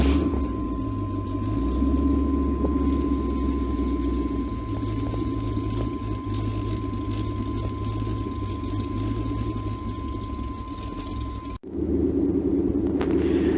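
A Pontiac Trans Am engine idles cold with a deep, steady rumble close by, running unevenly as if struggling, then a brief dip near the end before it carries on.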